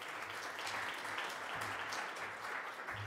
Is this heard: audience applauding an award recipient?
yes